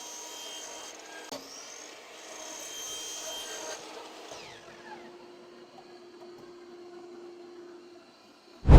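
A length of 1.5-inch PVC pipe is cut into 4-inch pieces, producing a faint rasping and scraping for several seconds before the cut settles into quiet, followed by a sharp knock at the end.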